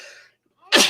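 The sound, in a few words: sneeze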